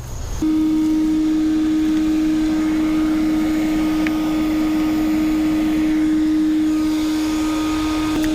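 A vacuum motor drones steadily and loudly with a strong constant hum, sucking up yellow jackets from a nest, running without pause from start to finish.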